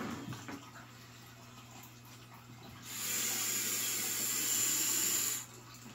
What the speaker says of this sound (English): I'm going to go ahead and put her in her soak tub.